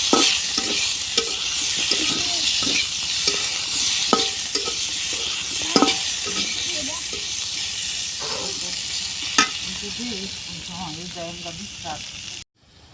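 Cumin, cinnamon, dried chili and coriander frying together in oil, a loud continuous sizzle broken by repeated scraping stirs and sharp clinks of the spatula against the pan, ending abruptly.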